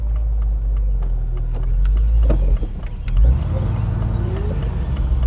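A car rolls into the lower entrance of a garage holding classic cars, its engine a steady low rumble, with a few clicks and knocks and a brief dip in level partway through.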